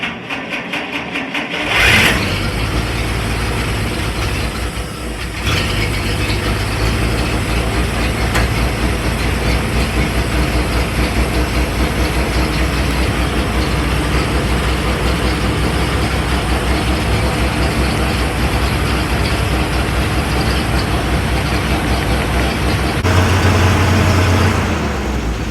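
Restored WC 51 Dodge engine cranking briefly then catching and settling into a steady, loud, rough idle that runs continuously, close by with no talking.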